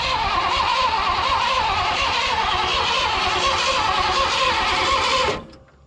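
A 1950s car engine, one of several Ford, Mercury, Pontiac or Chevrolet cars being started for the first time, cranks and runs loudly and steadily for about five seconds before cutting out abruptly.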